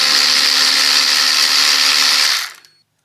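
A power tool spinning out quarter-inch screws on a 1982 Yamaha 650 Seca motorcycle, a loud steady high whir held for over two seconds before winding down and stopping.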